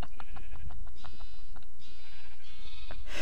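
Several sheep bleat in Minecraft, their repeated bleats spaced a second or so apart amid quieter game sounds, with no talk over them.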